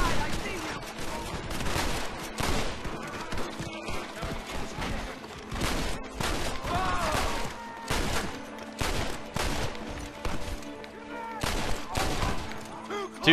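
Rapid gunfire in the Red Dead Redemption video game, a dense run of sharp, loud shots and volleys across the whole stretch with brief gaps, over faint game ambience.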